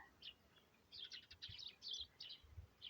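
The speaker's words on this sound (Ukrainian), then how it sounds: "На камеру добре чути тільки свірінькання горобців" Sparrows chirp in a blossoming flower garden, a scatter of quick high tweets in short bursts, fairly faint and a little distant over a quiet rural background.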